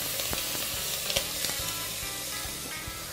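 Tomato, onion and bell pepper fry in a pan with a loud, steady sizzle and crackle, punctuated by occasional stirring clinks and scrapes throughout, with no voices.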